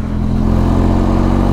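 The engine of a Benelli TRK 502 X motorcycle holds a loud, steady low rumble up close, with a mechanical whir over it as the bike pulls along under light throttle.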